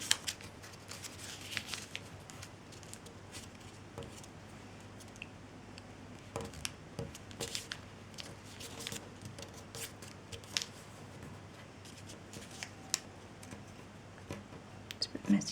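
Paper crackles and rustles in soft, irregular bursts while being folded in half for an origami crane, close and fairly quiet, with someone speaking quietly throughout.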